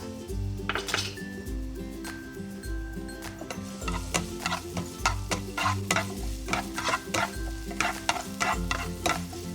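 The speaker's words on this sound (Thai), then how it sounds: "พอน้ำมันเริ่มร้อนแล้วก็ใส่กระเทียมสับของเราลงไปค่ะ" Minced garlic sizzles in a little hot oil in a wok for a pumpkin and egg stir-fry, with a steady frying hiss under repeated scraping and clinking strokes of a spatula against the pan.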